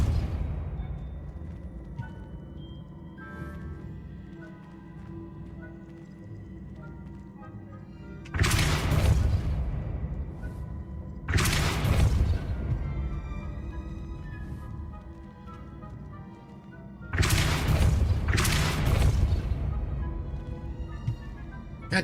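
A Depulso spell cast in Hogwarts Legacy produces loud, sudden whooshing bursts, four of them at irregular intervals over a quieter low musical background.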